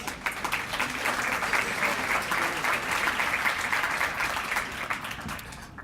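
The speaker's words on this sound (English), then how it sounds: "So give yourselves a round of applause." An audience at an awards ceremony claps steadily, a dense, even wash of applause from many hands that holds for several seconds before easing off slightly at the end.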